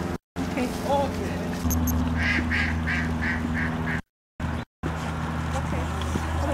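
Ducks or geese being fed bread outdoors give a run of repeated quacking honks over a steady background rumble, with brief dropouts in the sound.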